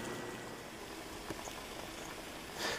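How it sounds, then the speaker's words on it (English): Chaga tea at a low simmer in a pot, a steady soft bubbling hiss with faint patter and a few small pops, close and quiet throughout. "The chaga has been at a low simmer."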